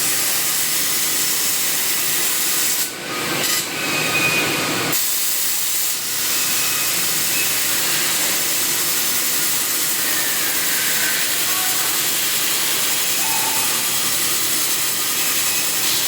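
A huge industrial machine cuts aluminium stock, giving a loud, steady broadband roar that runs the whole time, with a brief dip and a couple of short gaps near the start.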